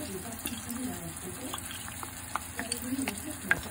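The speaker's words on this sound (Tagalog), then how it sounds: "lagyan natin ng patis habang ginigisa natin" Small frozen shrimp sauté in a pan with fish sauce, a soft steady sizzle broken by light scraping and stirring taps, faint and close, with a voice murmuring underneath.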